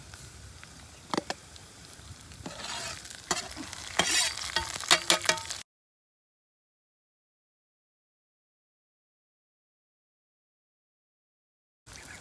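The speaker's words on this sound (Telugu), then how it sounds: "ఇప్పుడు పచ్చిమిర్చి టమాటా వేసుకుందాం దీంట్లోకి." Green chillies and tomatoes fry in a pan with a close, crackling sizzle and stirring scrapes for about five seconds before the sound cuts to silence. A brief burst of sound returns at the very end, with no talking.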